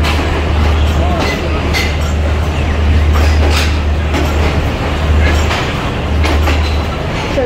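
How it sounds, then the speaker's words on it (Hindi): The Awam Express, a passenger train running from Peshawar to Karachi, pulls into platform 4 at Peshawar station with a loud, steady rumble and rhythmic wheel clatter, close by, while a voice talks over it. "अभी अभी जस्ट पिशावर से कराची जाने के लिए अवाम एक्सप्रेस आकर रुकी है"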